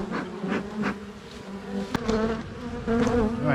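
Honeybees buzz steadily in an opened hive during an inspection, a dense close-up drone with individual bees flying near and away.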